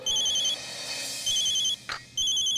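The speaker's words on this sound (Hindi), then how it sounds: "किसका फोन है?" A telephone rings in a home with repeated bursts of a bright electronic ring, loud and close, broken by a short gap and a brief rustle before the ringing resumes.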